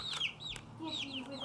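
Backyard chickens cluck close by in short bursts, with high chirpy calls from smaller birds mixed in over a quiet background.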